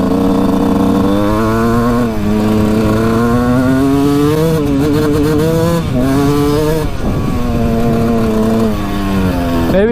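Suzuki RM125 two-stroke dirt bike engine held at full throttle, a loud, close, sustained high-revving buzz that wavers and dips briefly in pitch before climbing again, with a suspected power-valve fault.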